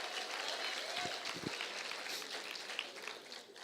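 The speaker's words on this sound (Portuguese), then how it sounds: "Aplauda Jesus pela vida dos nossos irmãos, das nossas irmãs, alcançados pelo Senhor." Church congregation applauding during a worship service, a steady wash of clapping and crowd noise with a few sharper individual claps, fairly even in level throughout.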